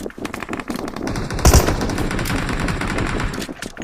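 Rapid automatic gunfire in the battle-royale game BGMI (PUBG), bursts of sharp repeated shots with a loud crack midway, dense and close, with no talk.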